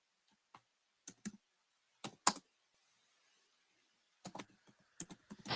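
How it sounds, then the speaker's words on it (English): Keys clack on a computer keyboard in short scattered bursts, a few quick taps, a pause, then a faster run of typing near the end, close and quiet in an otherwise silent room. "I'm typing these in as we go"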